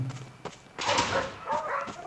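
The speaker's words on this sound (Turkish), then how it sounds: "Köpekler geliyor arkamızdan." Several dog barks and yelps in quick succession in Roblox, close and fairly loud, with an electronic, game-like quality.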